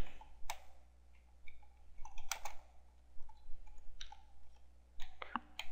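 Scattered, quiet clicks of someone typing on a computer keyboard, a few isolated keystrokes spread across a still room with no talking.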